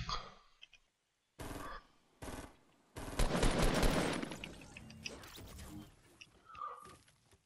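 Bursts of rapid automatic gunfire in the video game Fortnite, loud and close, cut by short silent gaps and then a longer sustained volley, with a voice talking quietly underneath.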